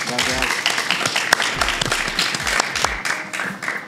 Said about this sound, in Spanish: hay un aplauso muchachos que están acá detrás